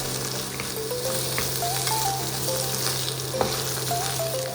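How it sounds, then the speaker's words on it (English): Eggs and shrimp stir-frying together in a hot pan or wok for salt and pepper shrimp fried rice: a continuous, even sizzle with faint stirring, sitting under a light melodic music track. "Stir fry with the shrimp for about 1 to 2 minutes."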